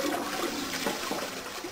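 A toilet flush in the video game Zero Escape 999, a short, steady gush of rushing water that sounds alone and fairly quietly for under two seconds.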